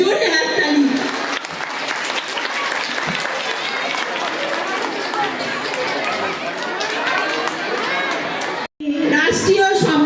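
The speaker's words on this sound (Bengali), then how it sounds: "একটা জোরে হাততালি।" A school audience claps loudly and continuously at an annual prize-giving ceremony, dense applause filling the hall with crowd chatter and a voice speaking under it, briefly dropping out before clapping resumes.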